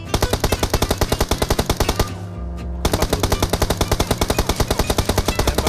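Rapid automatic gunfire in PUBG Mobile rattles in a fast, even stream of loud shots, pausing briefly midway before resuming at the same relentless rhythm.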